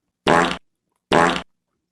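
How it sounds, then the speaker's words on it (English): Two short, loud fart sound effects, each about a third of a second long, come with a gap between them inside a song among the 2023 Grammy-nominated tracks, with no talking. "What a fart sound."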